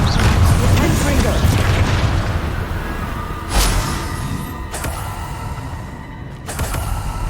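Confringo fire spell exploding in the video game Hogwarts Legacy, with a heavy booming blast at the start followed by a few sharp, crackling impacts over lingering rumble.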